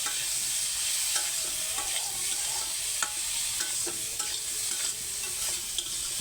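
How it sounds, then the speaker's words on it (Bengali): Potatoes frying with turmeric in a pan, a steady bright sizzle running throughout with occasional scrape and stir knocks, close and fairly loud, no voices. "আলু আলুটা ভাজুন সাথে আমরা হলুদ দিছি দিয়া ভাজুন"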